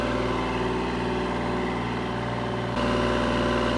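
A Kubota L2501 tractor's diesel engine running on a dynamometer at 2200 RPM, a loud steady mechanical drone with a constant low hum, holding even throughout and stepping slightly louder near the end.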